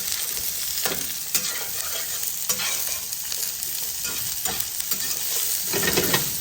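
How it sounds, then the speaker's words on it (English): Cabbage tossed in a hot frying pan with bacon, mushrooms and onion for a quick keto stir-fry, a continuous bright sizzle punctuated by repeated spatula scrapes and clacks, close up and without speech. "So I'm going to get the cabbage in, get that stirred around into contact with the pan."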